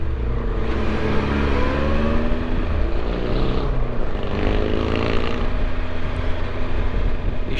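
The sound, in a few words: motorcycle with open exhaust pipe accelerating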